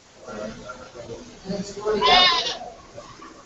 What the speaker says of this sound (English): right next door to the baby goats, we have our normal goats